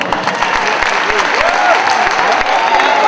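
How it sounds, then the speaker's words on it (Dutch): Audience at the Miss India Holland beauty pageant finale clapping for themselves, loud and close, with distinct sharp individual claps standing out over a steady bed of crowd applause. "Even een applaus voor uzelf."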